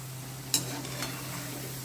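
Potato and onion crab-style bhaji fry in hot oil on a low flame, giving a steady soft sizzle with a low hum under it and a couple of brief clinks from a utensil.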